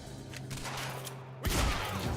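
Gunfire erupts during a firefight in Quantum Break, a dense burst of shots rising over the low hum of the game's background after a tense lead-in.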